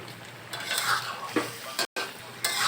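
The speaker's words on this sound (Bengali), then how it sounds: "একটু নাড়াচাড়া করলাম এখন কিছুক্ষণ অপেক্ষা করি এক মিনিটের মতো ফুটিয়ে নিলাম" Bengali tilapia fish curry with turnip is stirred in a pot, a close, continuous sizzle with bursts of scraping and stirring and one brief dropout near the end.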